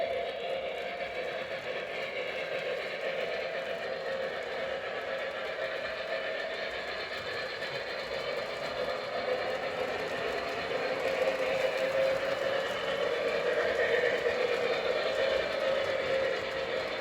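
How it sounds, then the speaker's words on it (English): An O gauge model train rolls steadily around a layout track, giving a continuous, even mechanical rumble and hum that grows slightly louder toward the end. "turning our train around once again"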